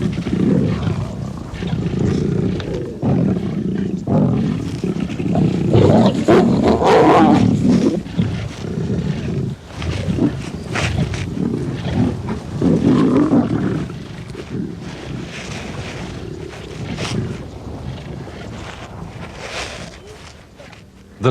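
A starving pride of lions in a severe drought gives deep, rumbling roars and growls that run almost continuously and overlap one another, with some wind noise on the microphone.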